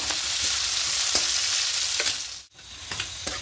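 Onions fry in hot oil until lightly reddened for a spinach curry with fish head, giving a steady close sizzle. Periodic spatula scrapes and taps mark the stirring, with one brief pause in the hiss, and no one speaks.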